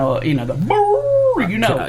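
A man vocally imitates a hound, with short yelping barks that break into a long, drawn-out rising howl, then more yips, all loud and close.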